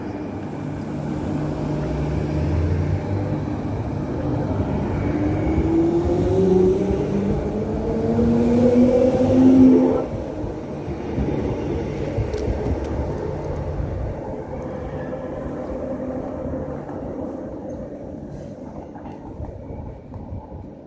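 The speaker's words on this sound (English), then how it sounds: "Train's getting ready to start now" A new Perth electric train pulling out of the station, a steady motor whine rising in pitch as it accelerates, then easing into a quieter rolling hum.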